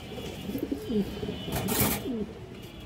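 A female red chhapchila pigeon of an old breed coos softly in low, repeated rolling calls through steady background noise, with a brief hiss of wider sound midway.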